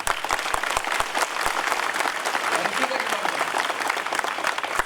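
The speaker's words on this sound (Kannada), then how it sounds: "ಚಪ್ಪಾಳೆ ಹಾಕಿದರೆ ಜೋರಾಗಿ ಹಾಕಬೇಕು" Audience applause at a Republic Day gathering, a dense steady wash of many hands clapping throughout, loud and continuous with no pauses.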